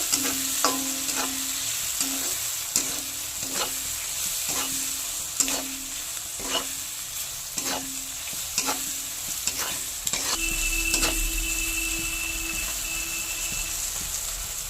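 Salt, turmeric, red chili powder and cumin powder sizzle in hot oil as a spoon stirs them, scraping the pan in a regular rhythm of repeated strokes over a continuous close frying hiss.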